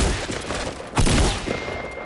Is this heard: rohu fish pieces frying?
no